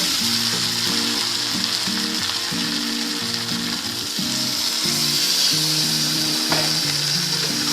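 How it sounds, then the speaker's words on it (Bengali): Prawns and spring onion sizzle hard in spiced oil, a loud, continuous frying hiss that runs unbroken throughout with no voices. "মশলা দিয়ে সমস্তটা একটু ভাজা ভাজা মতো হয়ে গেছে দেখুন তেল ছাড়ছে"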